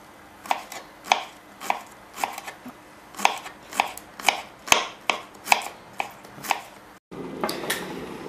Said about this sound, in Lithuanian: Toliau pjaustome paprikas pailgais stambokais šiaudeliais